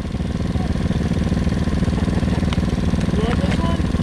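An ATV engine runs at a steady, throbbing mid-pitched drone while trail riding, close and loud throughout, with faint voices and small knocks underneath.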